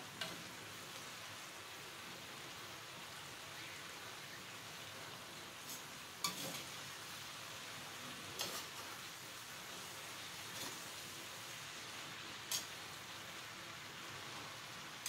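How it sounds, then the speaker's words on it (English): Steady sizzling and crackling of cabbage frying in a hot pan, with a few sharper pops and clinks breaking through the constant hiss. "I want the frying process to start"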